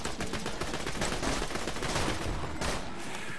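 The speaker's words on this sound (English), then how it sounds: "Bullets coming from every direction" Gunfire in Borderlands 2, a dense, nonstop barrage of overlapping shots and machine-gun bursts from several weapons at once, loud and relentless throughout without a break.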